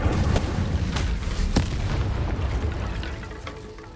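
A fire spell cast in the video game Hogwarts Legacy, heard as a run of sharp whooshing bursts and booming pops over a steady low rumble, with the noise easing toward the end.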